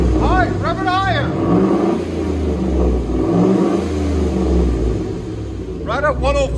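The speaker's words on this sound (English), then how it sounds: "High, rev it higher." A Chevy Trailblazer V8 revs hard, its engine roar rising and falling steadily throughout with loud, close rumble, while voices talk over it near the start and end.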